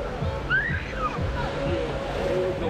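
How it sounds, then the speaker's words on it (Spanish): Sea waves washing onto the beach at Playa Mamitas in Playa del Carmen, a steady surf wash with soft repeated swells, mixed with faint bird calls and distant background activity. "Está el mar divino."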